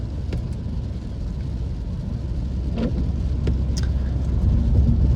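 An Audi A4 B5 S-Line in Euro spec cruises along in drive, a low, steady engine and road rumble from inside the cabin with a few faint clicks and rattles, no talking.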